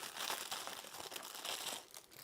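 Plastic packaging crinkles and crackles faintly around a round or square resin mold as it is unwrapped, in a short continuous rustle with no voices.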